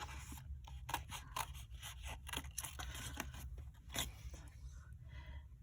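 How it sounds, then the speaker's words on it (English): Scissors snip through card along score lines in a series of close, crisp cuts, repeated quick clicks and slicing strokes over a low steady background hum. "I'm cutting right on the score lines and cutting this out."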